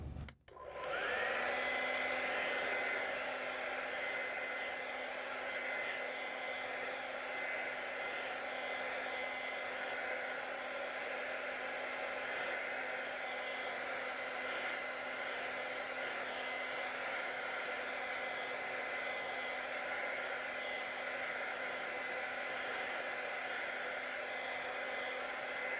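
A hair dryer blows continuously to dry acrylic paint on a landscape canvas, a steady close whir and airy hiss that starts with a click and runs unbroken for over twenty seconds.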